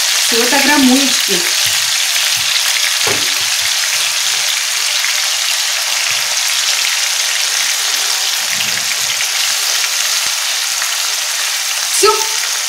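Mushrooms sizzling in hot oil in a frying pan, a continuous bright crackle with occasional stirring knocks and scrapes of a utensil against the pan.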